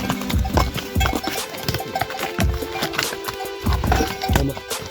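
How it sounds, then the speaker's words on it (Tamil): Pack horses used to carry goods on a trekking trail clip-clop along, their hooves striking the ground in a steady uneven rhythm, loud and close, with faint voices in the background. "இவங்க குதிரைகளை திங்ஸ் ஏற்றிட்டு வர்றதுக்கு யூஸ் பண்ணுறாங்க."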